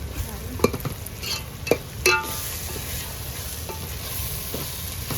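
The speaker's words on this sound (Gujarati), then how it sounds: "તો મિક્સ કરવાનું છે બધું તો આપણે હલાવવાનું શરૂ કરી દીધું" Egg manchurian mixture being stirred in a pan over a soft sizzle, with a few sharp spoon clinks and scrapes against the pan up close.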